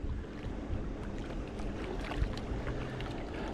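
Wind gusts across a lake around a fishing boat while casting a Carolina rig, a steady broadband rush with low rumbling buffets against the microphone and no voices.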